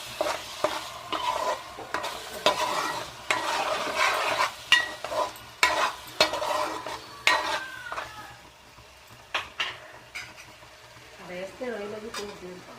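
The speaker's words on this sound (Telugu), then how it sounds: "టమాటా పేస్ట్ వేసుకున్నాక ఒకసారి కలుపుకోవాలి." Tomato paste is stirred into reddish fried onions in a pan with repeated, close scraping and clinking strokes over a low sizzle. The stirring comes in bursts and eases off toward the end.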